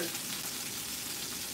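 Food sizzles steadily in a hot pan, a dense continuous crackle at close range with no talking.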